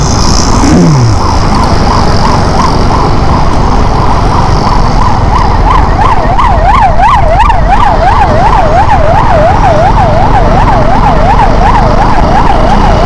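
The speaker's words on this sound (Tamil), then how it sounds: "ஒரே நிமிஷம், ஆம்புலன்ஸ் வருது." A loud ambulance siren wails close by in repeating rising and falling sweeps over heavy road traffic noise, the pitch shifting as the vehicle goes past.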